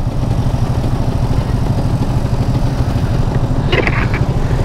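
Kawasaki Ninja RR two-stroke motorcycle running steadily nearby with a constant, buzzing engine drone, a brief higher-pitched flick of throttle near the end.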